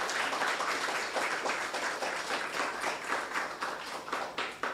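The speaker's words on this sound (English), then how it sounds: "Give yourselves a round of applause for getting here" Faint, steady applause from an audience at a student internship programme closing ceremony, distant and continuous without talk.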